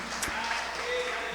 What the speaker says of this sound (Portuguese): Aplaude o nome dele, glorifica, faz barulho.